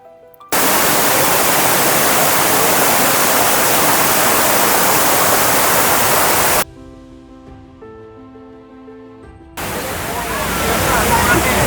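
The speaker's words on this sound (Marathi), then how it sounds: "आता आपण मेन वॉटरफॉलला आलो" A loud, steady roar from the main waterfall at Amboli fills most of the clip, briefly giving way to quieter tonal music before the rushing water returns.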